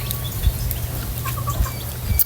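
Farmyard chickens cluck nearby in short, scattered calls over a low rumbling background, a few brief clucks spaced across the moment.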